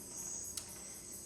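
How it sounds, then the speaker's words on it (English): Steady high-pitched cricket chirping fills the night air, a continuous shrill trill with faint background hum. "Hopefully you can hear the crickets and all the like nighttime bugs outside."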